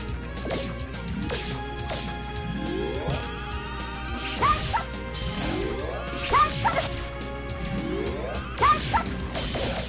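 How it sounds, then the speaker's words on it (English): Sharp, repeated dog barks from Mega Man 2 Power Fighters come in regular bursts over a steady electronic game backdrop, alongside crashing hit and thwack effects. "There comes the dog."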